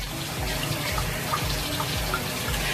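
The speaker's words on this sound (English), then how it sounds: "I'll pour a little bit more." Wine poured from a bottle into a glass, a continuous close splashing trickle with a few small gurgles, steady and fairly loud throughout with no talking.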